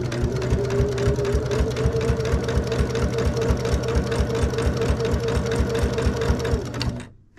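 A sewing machine backstitches through a quilt, running steadily with a rapid, even needle rhythm for about seven seconds before stopping abruptly at the end.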